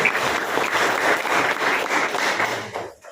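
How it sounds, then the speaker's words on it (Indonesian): A classroom of students applauds a classmate in a dense, lively burst of clapping that holds steady, then drops away sharply into quiet at the very end. "Tepuk tangan untuk dia."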